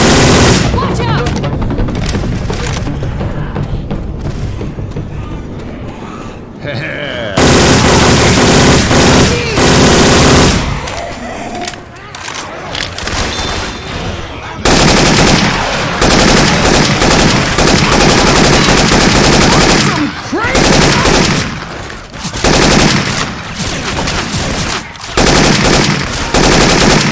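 Sustained machine-gun bursts in Left 4 Dead 2 with Syphon Filter weapon sound effects, loud and rapid, broken by a couple of brief pauses, with game character voices shouting over the gunfire.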